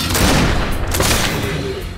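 Loud bursts of gunfire in the video game Risen 2 with booming impacts, dense and continuous over two seconds, no talking.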